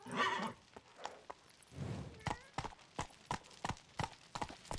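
The horse Roach gallops in The Witcher 3 video game, with a quick rhythmic clip-clop of hooves close by and a brief, faint voice near the start.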